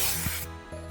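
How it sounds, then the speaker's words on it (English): A short, close burst of aerosol clear varnish sprayed over a baked clay design, a bright hissing spurt that cuts off abruptly after about half a second. "So just spray a layer over your design"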